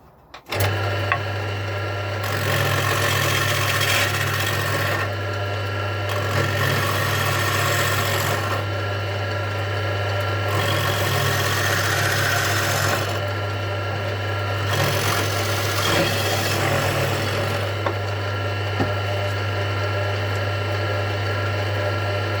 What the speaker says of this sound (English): Planed it down to the right size